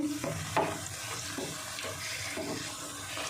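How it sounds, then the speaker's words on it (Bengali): Crispy spinach pakoras deep-fry in hot oil with a continuous bubbling sizzle, punctuated by a few soft stirring strokes, close and fairly quiet with no talking. "একদম মুচমুচে করে ভেজে নেবে দেখুন এটাও কত সুন্দর ফুলে উঠেছে এভাবে ভেজে নেব"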